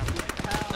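Rapid gunfire in an Arma ShackTac mission, a quick burst of repeated close shots within under a second, with voices audible underneath.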